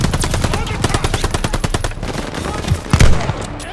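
Machine gun fire from a tower in Call of Duty Vanguard, a fast, loud, steady stream of shots that slackens near the end into scattered heavier impacts, with voices shouting under it.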